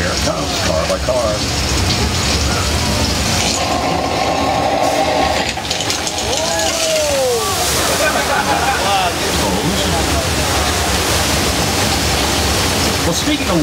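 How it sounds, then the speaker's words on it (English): A loud, steady roar of rushing water from a staged flash flood on a Universal Studios Hollywood film set floods the scene, with voices calling out underneath and occasional higher splashing tones cutting through. "we're having a flash flood"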